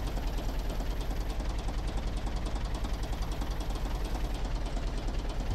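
Tractor engine running steadily in the Der Landwirt 2014 farming simulator game, a loud continuous rumble with a fast knocking pulse and no clear rise in pitch, heard alone.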